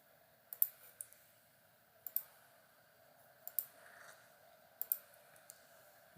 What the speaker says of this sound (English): Click on OK.